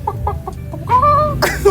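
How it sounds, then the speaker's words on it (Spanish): A chicken gives several short clucks close up, followed by a drawn-out squawking call, loud and alone. "Gallina, gallo. Una gallina."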